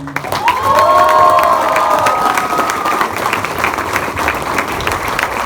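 A youth venture event audience stands and gives loud applause, clapping steadily while cheering and high shouts and whoops rise over it, the sound building quickly and staying strong throughout.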